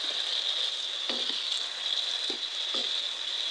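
Potatoes and small mola fish frying in a pan give a steady, dense sizzle throughout, broken by a few soft knocks and scrapes as a spoon stirs them.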